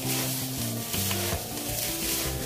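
Food sizzling and frying in a pan while being stirred, with a loud steady sizzle and the repeated scrape of a utensil against the pan.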